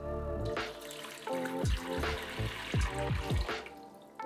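Water pours and trickles around a coco fiber brick being soaked, with close, irregular splashes and gurgles in a quiet indoor setting.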